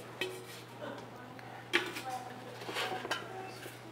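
A copper gold pan is handled, giving off scattered light metallic clinks and knocks, with a steady low hum running underneath.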